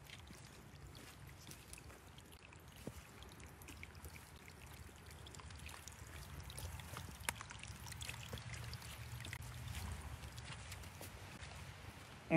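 Running water of a stream along a greenbelt hiking trail, a steady soft rushing and trickling wash that holds constant throughout, fairly faint and heard alone without talk.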